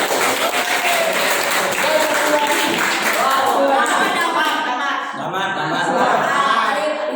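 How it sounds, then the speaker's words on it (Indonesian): Classroom applause for a young pupil named Hanif after his Quran recitation, a dense, lively burst of many small hands clapping continuously with children's chatter and laughter mixed in, easing slightly before picking up again. "tepuk tangan buat Hanif"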